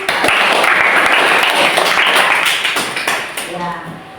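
Classroom applause during a teacher-training lesson, dense clapping filling most of the clip before thinning into scattered claps near the end, with voices mixed in.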